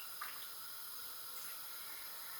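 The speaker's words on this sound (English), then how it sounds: "I put the almonds into the bowl, and then I'm going to pour water on top" Water pours into a large bowl of almonds, a faint steady hissing stream running the whole time with no talk.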